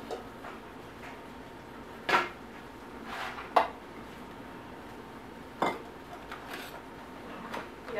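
A bowl and other dishes clink and clatter in a home kitchen: a few sharp separate knocks of ceramic and utensils spread over several seconds against a quiet room.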